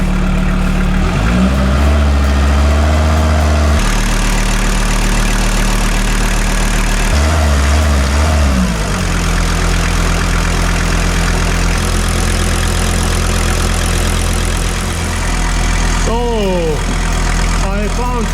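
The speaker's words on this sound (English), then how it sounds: "I don't want to wreck this new freshly built engine too much" A freshly rebuilt car engine, just back from a two-year complete overhaul, idles cold with a steady low rumble and faint knocking, while someone talks over it for much of the time.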